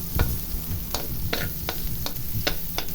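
Tongs stir food in a pot of soup with ginger, making a steady series of sharp metallic scrapes and clicks roughly every few tenths of a second over a soft sizzling hiss.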